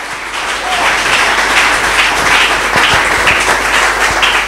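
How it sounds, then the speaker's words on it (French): A church congregation applauds, a loud, dense wash of clapping that holds steady from start to finish with no talk over it. "on peut acclamer pour la parole"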